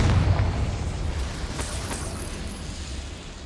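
A Confringo fire spell in Hogwarts Legacy goes off with a heavy, close boom, then a rumbling burst that crackles and slowly fades.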